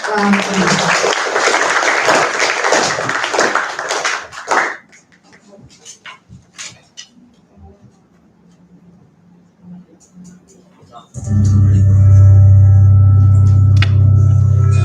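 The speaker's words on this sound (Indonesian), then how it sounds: "Tepuk tangan dulu" Applause from a school audience at a legal awareness session rises loudly at the start and fades after a few seconds, followed by quiet scattered sounds and then loud music from a film that begins playing.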